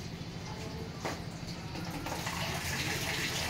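Water pours steadily into a cooking pot while dal is prepared, a continuous close gushing splash that grows slightly fuller toward the end.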